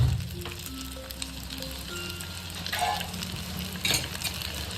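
Stuffed onions frying in oil over a low flame, a steady soft sizzle with scattered stirring scrapes and a faint low hum underneath, no voices.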